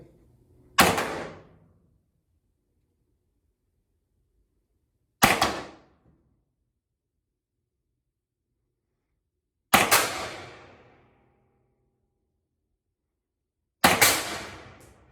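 PepperBall TCP less-lethal launcher fired at a backstop: four sharp, loud single shots spaced several seconds apart, each with a short decaying ring and silence between them.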